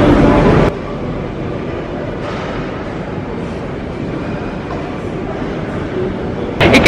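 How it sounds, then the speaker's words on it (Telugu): Steady low rumble and murmur fill a Moscow railway station waiting room, with a louder burst of noise at the start and end, continuous ambient hum throughout and no clear talk. "ఇది రైల్వే స్టేషన్లో వెయిటింగ్ రూము."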